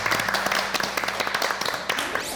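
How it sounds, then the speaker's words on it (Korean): A short burst of clapping from a small group in a classroom-style learning session, brisk, uneven hand claps that taper off within a couple of seconds. "자, 박수."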